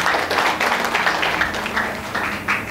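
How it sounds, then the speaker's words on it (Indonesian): Congregation clapping together during a Sunday church service, a dense, steady patter of many hands filling the room, loud and close, with no speech over it. "Berikan tepuk tangan untuk Tuhan."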